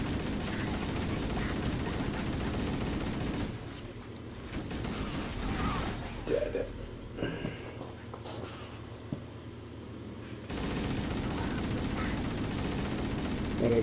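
Rapid, sustained gunfire from the Halo Anniversary video game, dense mechanical bursts that drop away midway under a quieter stretch of clicks and creaks, then resume at full loudness.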